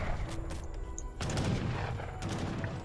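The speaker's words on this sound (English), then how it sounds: "Mortars even being used to help take out the segments of the wall" Mortar fire pounding wall segments during a 2v2 strategy game battle: a dense, continuous barrage of booming blasts and overlapping impacts, loud and without any talk.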